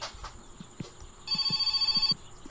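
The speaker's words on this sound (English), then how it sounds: "I'm going to go and answer that phone, I think." In the video game My Summer Car, a telephone rings in a run of rapid electronic trills for about a second, faint and thin, alongside soft thudding steps in a quiet room.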